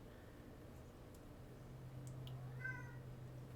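A pet cat gives a soft, faint meow partway through, set against a quiet room hum.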